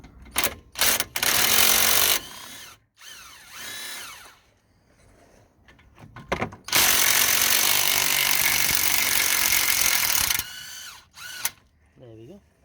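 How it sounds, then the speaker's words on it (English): Power tool undoing the 17 mm brake caliper bolts on a Mitsubishi Outlander mk2, loud close bursts of buzzing, rattling impact-style whirring in several stretches, broken by short pauses, metallic clicks and a brief voice. "So two 17 mil bolts to undo the caliper."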